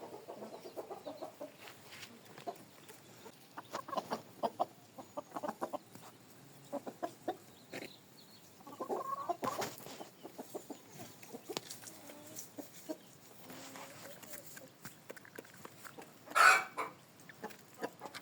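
Easter Egger hens cluck intermittently in a yard, soft close-up clucks and murmurs in scattered bursts, with one louder squawk near the end.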